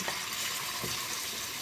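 Oil and olive oil sizzling in a frying pan, a soft, steady hiss with faint crackles for a brief moment, no voices.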